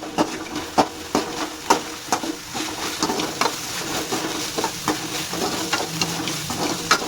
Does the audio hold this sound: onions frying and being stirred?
yes